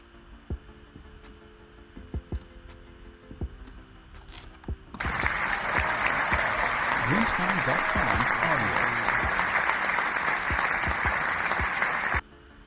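Applause breaks out during a live online forex trading session, a dense, loud wash of clapping that starts abruptly after a few quiet seconds with faint clicks, holds steady for about seven seconds, then cuts off sharply.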